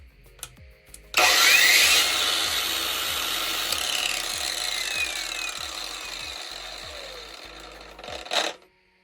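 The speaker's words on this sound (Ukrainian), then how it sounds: "зараз перевіримо, чи крутуне він болгарку" A cordless angle grinder on a Felisatti 4.0 Ah battery whines up to a high, steady spin with a harsh metallic drone, gradually easing off, then stops after a brief final surge.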